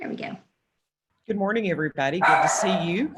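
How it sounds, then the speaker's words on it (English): A dog barks briefly at the start, near and fairly loud, during an online commission meeting. A pause follows, then a person talks over it. "Sorry about my dog."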